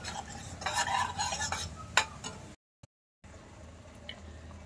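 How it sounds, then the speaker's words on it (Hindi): Dry masala mix roasting in a pan for paneer lababdar, stirred with a spoon that scrapes and clinks against the metal. The stirring is close and steady for about two and a half seconds, followed by a silent gap and then a quieter background. "देखिए हमारा मसाला भून चुका है"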